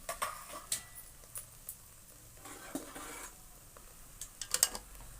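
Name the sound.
stirring and roasting chana dal with jaggery in a pan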